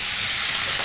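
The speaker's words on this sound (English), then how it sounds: "you can hear that sizzling away" Skin-side-down salmon fries in a hot pan with a loud, dense, continuous sizzling hiss and no break.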